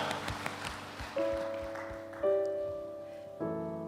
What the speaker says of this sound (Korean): 우리를 보호하시는 하나님께 감사와 영광의 박수 올려드립니다